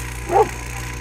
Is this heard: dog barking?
yes